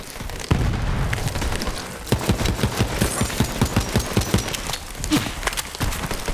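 Rapid SMG bursts and booming explosions fill a Borderlands 3 firefight, with loud repeated shots in quick rhythmic volleys and a sharp blast near the start.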